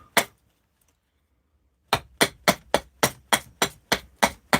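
An axe flattening a split piece of wood in a workshop: one sharp chop, a pause of silence, then a quick, even run of about nine crisp, close strikes.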